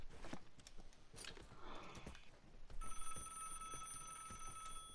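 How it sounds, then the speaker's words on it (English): Telephone ringing in the video game Vigor: a faint, thin, steady electronic ring starts partway through and continues against quiet background rustling and footsteps. "That's just ringing the phone."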